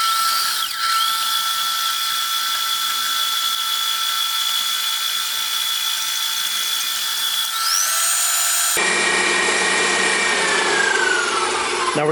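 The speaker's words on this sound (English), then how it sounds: "we're going to throw it into our mixer to cream together with our sugar" An electric stand mixer creaming butter and sugar for banana bread, giving a steady high whine that shifts pitch partway through and runs continuously and loudly with no talk.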